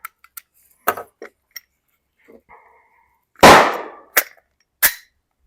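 Sharp single gunshots at an outdoor shooting range, one loud close crack with a trailing echo followed by two more spaced shots, with faint clicks and handling noises before them.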